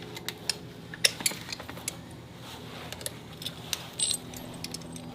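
Metal washers clinking and jangling in hand while a snow deflector is fitted onto a plow, scattered light taps and rattles at close range over a quiet background.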